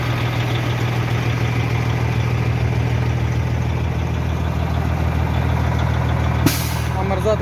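International truck engine idling with a steady low rumble, loud and close, followed near the end by a sharp hiss like an air brake release.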